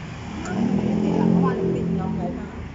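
Keeway GT270 scooter engine cranking and catching, then a steady rev that swells and settles, close by, with a voice faintly in the background.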